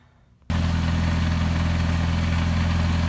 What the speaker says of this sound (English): start it up and see how much noise this is making